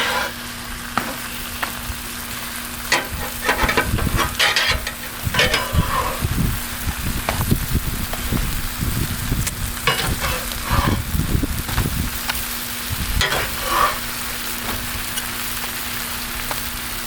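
Tostadas sizzle in a pan after being flipped, with a crackly, popping fry that swells and fades in bursts, along with occasional spatula scrapes and clatter.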